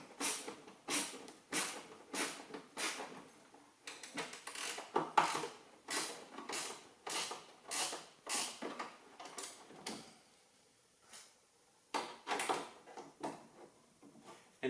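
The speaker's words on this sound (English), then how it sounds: "take your 5mm Allen and your 13mm wrench and begin to tighten it down" A 13mm wrench and a 5mm Allen key tighten bolts on a go-kart's plastic side pod, making a quiet, close series of rhythmic metallic ratchet clicks in bursts, with a brief pause near the end.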